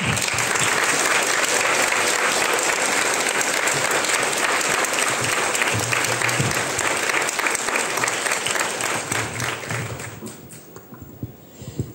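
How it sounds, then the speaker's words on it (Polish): An audience at a public meeting with a traveller and TV presenter claps in sustained, dense applause, loud and close for about ten seconds before it thins out and fades. "Były oklaski, trochę były"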